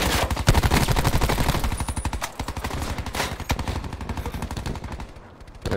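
Rapid automatic fire from a Maddox RFB rifle in Black Ops 4 rattles in a steady, fast stream of loud, close shots, broken by brief pauses before resuming.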